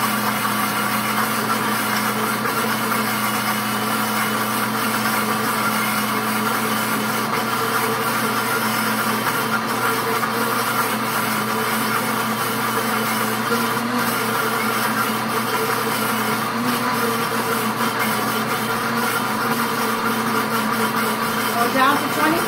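A Pampered Chef blender grinds peanuts into peanut butter, a steady, loud motor drone with a churning rumble that holds constant and close throughout, with no pauses.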